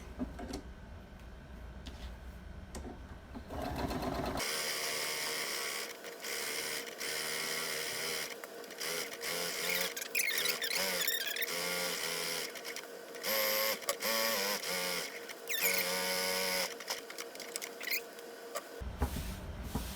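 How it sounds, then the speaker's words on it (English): A sewing machine stitches around the edge of a scrappy Halloween pillow, whirring steadily and close with brief pauses and restarts, after a few seconds of quiet at the start. "I'm going to go ahead and put this on the machine. And we'll stitch all around."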